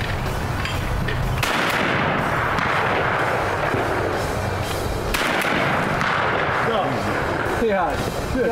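Shotguns fire at a sporting clays course outdoors, loud sharp booms at about 1.5 and 5.2 seconds, each ringing out and fading, with men chatting nearby between shots.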